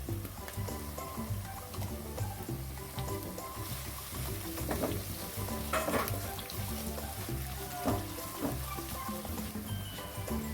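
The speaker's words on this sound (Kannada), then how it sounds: "ಹಾಗೆ ಅದಕ್ಕೆ ಕರಿಬೇವು ಸೊಪ್ಪು ಹಾಕ್ತಾಯಿದ್ದೀನಿ" Curry leaves and green chilies frying in hot oil for masala avarekalu uppittu, a steady soft sizzle with faint stirring ticks running evenly throughout.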